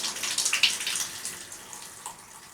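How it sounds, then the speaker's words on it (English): Water draining from a Delta shower faucet during a repair, a soft hissing trickle with light gurgling splashes, fairly close and fading gradually toward the end. "But before I begin, you want to drain the rest of the water."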